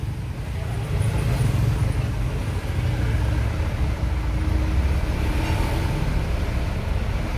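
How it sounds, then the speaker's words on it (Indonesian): Steady road traffic noise in a jam on a hot day, a continuous low rumble of idling and slowly moving cars and larger vehicles, close and fairly loud throughout. "Ini aku kena macet dari tadi"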